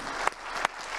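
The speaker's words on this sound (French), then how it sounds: "On va vous applaudir" Applause from an audience at an industry trophy ceremony, a dense steady wash of clapping with a few sharper individual claps standing out, fairly close.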